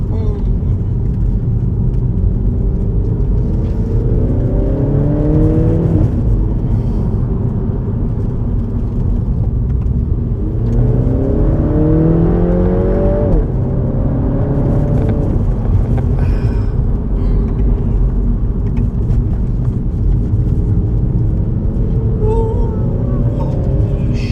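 A Mini Cooper S engine drones loudly through the cabin on a private mountain road in Mexico, its pitch sweeping up and down as the driver revs and drops into second gear, with a steady low road rumble underneath.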